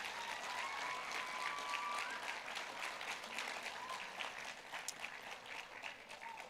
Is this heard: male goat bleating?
no